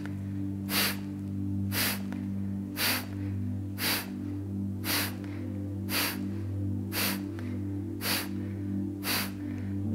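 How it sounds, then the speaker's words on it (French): Kapalabhati yoga breathing: rapid, forceful nasal exhales repeat in a steady rhythm of roughly one every second, each a sharp close burst of air over a constant low hum. "une quinzaine de Kapalabhati"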